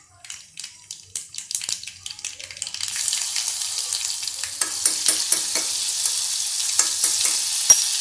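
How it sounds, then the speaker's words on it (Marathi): Mustard seeds splutter in hot oil while tempering a cluster bean and moong dal curry: sharp, rapid pops start sparse, then thicken into a dense, loud, continuous crackling sizzle close by. "आता मी मोहरी घातली याच्यामध्ये ही मोहरी कुठे देऊयात आणि मोहरी फुटली की आपण आपला हा ठेचा घालणार आहोत"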